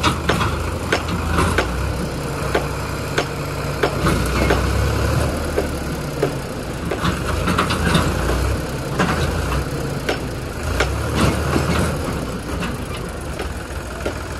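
A tractor engine labors while stuck at a ring well construction site, a loud continuous low rumble with uneven surges and clanking knocks, no voices present.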